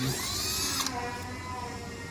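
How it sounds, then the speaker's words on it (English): A steady, high-pitched whine of a power drill boring through plastic, running continuously up close with no talking. "Drill straight through first, tilt the drill so we can get our 45-degree angle."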